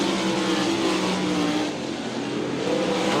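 ASCS Gulf South sprint cars racing at South Texas Speedway, a dense continuous engine roar with overlapping revving tones from several cars on the track, steady and loud throughout.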